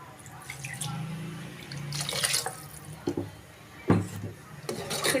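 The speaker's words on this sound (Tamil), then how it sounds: "குழம்புக்கு தேவையான அளவு நம்ம தண்ணி சேர்த்துக்கலாம்." Water rinsed from a mixer jar being poured into a pot of snake gourd and chana dal kara kuzhambu curry, splashing and trickling in bursts with a few clinks of the jar against the pot.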